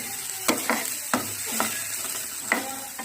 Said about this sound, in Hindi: ये हमने थोड़ा सा फ्राई करना है, ज़्यादा ओवर कुक नहीं करना हमने,